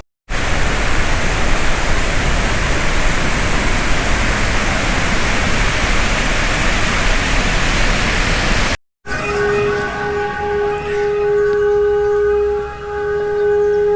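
A loud roaring rush of water fills most of the clip, then cuts to a steady wailing siren warning before a dam water release, with a sustained pitch and harmonics, in Italy.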